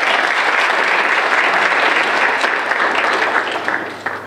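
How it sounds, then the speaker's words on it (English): An audience at a speech contest applauds, a dense, even patter of many hands clapping for about four seconds before tapering off. "Let's give another round of applause."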